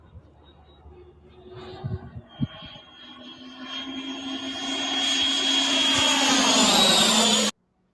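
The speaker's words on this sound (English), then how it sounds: "I think this sounds great, man. I love me an F-18." A model F-18 jet flies in, its turbine whine rising steadily from faint to a loud, high roar before cutting off abruptly.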